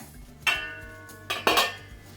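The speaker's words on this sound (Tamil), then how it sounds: "இப்போ மூடி போட்டு ரெண்டு நிமிஷம் ஆகிடுச்சிங்க நான் மூடி ஓப்பன் பண்ணுறேன்" A metal lid lifted off a cooking pan with a clatter and clink, then two more sharp knocks of metal on metal a second later, close by over a quiet background.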